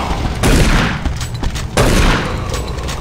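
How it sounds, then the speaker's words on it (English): Rapid fire from automated turret guns in the Doom 3 monorail area comes as two loud, close bursts of gunfire, each trailing off into a reverberant rumble. "Automated turret guns online."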